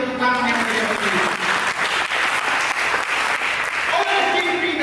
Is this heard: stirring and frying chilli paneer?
no